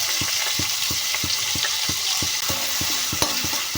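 Onions fry in a pan for a okra palya dish, a steady sizzle under regular scraping taps of a spoon stirring them, close and continuous.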